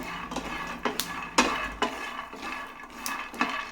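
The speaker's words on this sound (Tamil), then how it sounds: "இப்போது இது வேறு ஒரு பாத்திரத்துக்கு கொட்டிட்டு நம்ம ஆற விட்டுடலாம்." Dry-roasted ragi (finger millet) being tipped from one metal vessel into another, giving a few light scraping clinks and rustling pours in a quiet kitchen.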